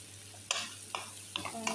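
Curry with tomato sauce frying in a pan, a soft steady sizzle broken by four brief scraping stirs of a spoon, quiet and close with no talk.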